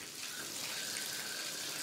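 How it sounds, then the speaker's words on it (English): Tap water pours steadily into a bath, a constant rushing hiss with no breaks, fairly close. "The water fills the bath."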